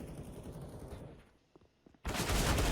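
Rapid gunfire from a Desert Eagle pistol in CS:GO, a loud dense burst, then a lull with a few faint isolated shots before another loud burst of shooting resumes.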